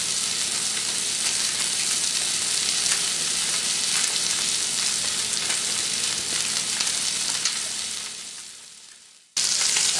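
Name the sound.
duck breasts searing in a pan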